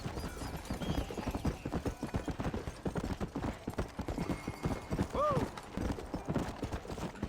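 Horse hooves clip-clopping in the video game Red Dead Redemption, a quick steady rhythm of hoof beats up close, with a brief whinny partway through and a voice talking over it.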